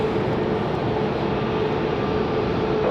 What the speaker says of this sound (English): This one is 737 MAX for American Airlines